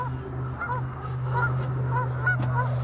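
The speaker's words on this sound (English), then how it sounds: "couple of Canadian geese," A couple of Canada geese honk repeatedly outdoors, loud and fairly close, their calls coming in uneven bursts over a low steady background hum.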